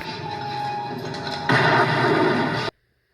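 Gunshot in the 1989 slasher film Friday the 13th Part 8: Jason Takes Manhattan, a loud sustained blast with heavy rumble over a dense movie soundtrack, swelling sharply midway before cutting off abruptly into silence.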